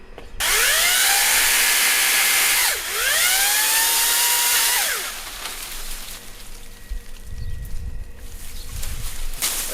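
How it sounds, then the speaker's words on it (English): Makita 40V battery power head with a chainsaw attachment cutting branches, two long loud whining motor runs that rise and fall in pitch, then quieter outdoor rustling and light thumps. "40 volt power head with the chainsaw attachment."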